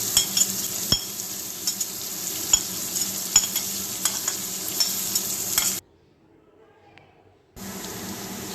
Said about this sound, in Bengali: তো এবারে দিয়ে দেব আমি পেঁয়াজ কুচি, লঙ্কা কুচি, আদা কুচি। আমি ভালো করে একটু লাল করে এগুলোকে ভেজে নেব।